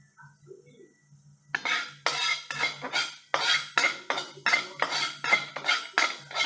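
Half a spoon of fenugreek seeds is dry-roasted and stirred in a pan for an amla pickle: a steady run of spoon-on-pan scrapes and clinks starts after a quiet moment and repeats in a close, regular rhythm.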